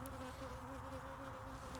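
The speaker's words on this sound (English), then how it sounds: "I'm getting pinged by a couple of bees" Honey bees buzz around a beekeeper working a hive, a steady droning hum that stays close and constant, with no one speaking.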